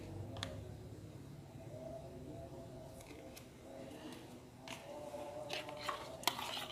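Melted margarine and sweet soy sauce being stirred together into a grill sauce meant for sausages: soft, steady scraping with a few light clicks of a utensil against the bowl, over a low background hum.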